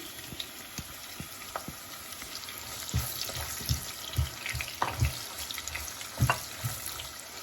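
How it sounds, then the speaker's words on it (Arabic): Onion frying in hot oil for Alexandrian koshari, a close sizzle broken by scattered clinks and scraping knocks of a utensil, louder in the second half, with no voices. "اول ما الزيت بتاعنا سخن هننزل بالبصله لحد ما تتحمر ويكون لونها حلو اهو"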